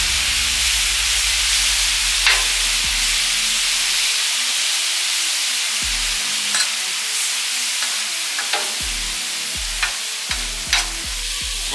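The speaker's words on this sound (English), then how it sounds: "What we're doing is cook our flank steak." Flank steak for fajitas sizzles steadily on a hot grill, a constant bright frying hiss broken by scattered small pops and crackles, close and with no one speaking.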